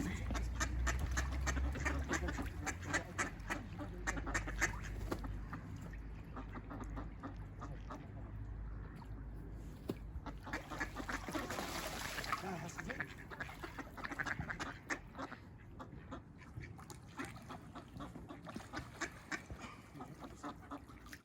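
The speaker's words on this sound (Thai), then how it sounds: "โอ้ เป็ด สวยงามมากเลยนะจ๊ะ" Ducks quack repeatedly in a noisy outdoor setting, with a steady low rumble and occasional talking nearby.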